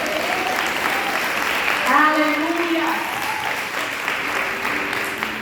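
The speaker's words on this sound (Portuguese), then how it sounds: "Vamos aplaudir o Espírito Santo." A crowd claps steadily for several seconds while a voice calls out over the applause.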